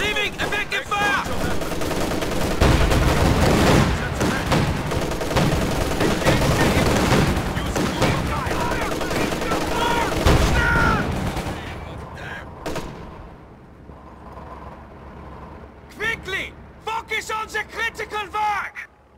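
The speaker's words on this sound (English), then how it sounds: "Receiving effective fire!" Gunfire and explosions from a Company of Heroes 2 battle over an industrial area, a dense, loud barrage of rifle and machine-gun bursts for the first ten seconds, then thinning into sparse, separated shots while voices talk.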